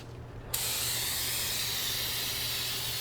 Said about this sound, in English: So I'm just spraying this pan down, getting all this poop up out of here